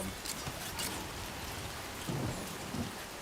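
Rain falls steadily during a thunderstorm in a video game, a soft, quiet hiss with low rumbles of thunder underneath.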